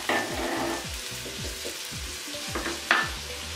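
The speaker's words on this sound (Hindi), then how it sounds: "अब हम प्याजों को अच्छी तरह फ्राई कर लेंगे" Onions frying in oil with a steady broad sizzle and repeated scraping stirs of a spoon against the pan, alone and fairly close, with no voices.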